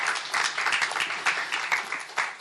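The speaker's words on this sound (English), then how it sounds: "Let's have a clap for Chetan ji" Festival audience applauds in tribute to filmmaker Chetan Anand, bright clapping that swells and pulses in uneven waves across a couple of seconds, fairly close and moderately loud.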